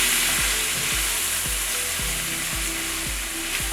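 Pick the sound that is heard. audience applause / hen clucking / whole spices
whole spices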